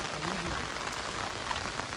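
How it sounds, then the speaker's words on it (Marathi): Heavy monsoon rain pours continuously, a dense, even hiss of drops striking surfaces, fairly soft and unbroken. "एकदम मुसळधार पाऊस पडतोच आहे, कंटिन्यू पाऊस पडतो"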